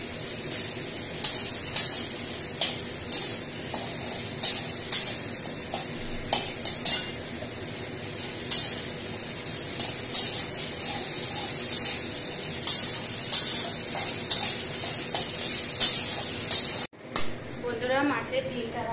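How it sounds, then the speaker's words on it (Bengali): Catla fish roe frying in oil with salt and turmeric, a continuous sizzle broken by regular scraping and clinking of a spatula against the pan, close and fairly loud, ending with a brief lull. "মাছের ডিমটা ভাজা হয়ে গেছে"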